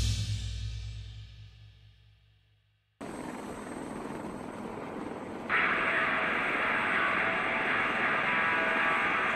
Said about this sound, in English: A1Z Viper is an American twin-engine attack helicopter, based on the A1W Super Cobra